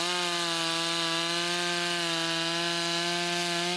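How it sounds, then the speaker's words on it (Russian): Petrol chainsaw cutting trees in a Carpathian mountain forest reserve, a loud, steady high-pitched engine whine held without a break, close and alone with no voices. "Громкий гул бензопилы в тиши Карпатских гор."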